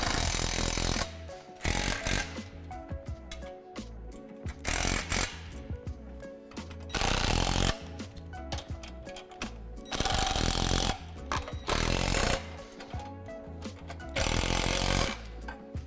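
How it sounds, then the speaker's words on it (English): Loud bursts of a power tool tightening hardware while a Lifetime Adventure Clubhouse swing set is assembled, running in repeated roughly one-second pulses with short pauses between them, close up and with no talking. "And now you can tighten up all the hardware."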